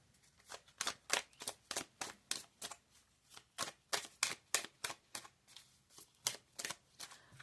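Oracle cards being shuffled in quick repeated riffles and slaps, a steady rhythm of sharp crisp bursts, close and fairly quiet, with no voice.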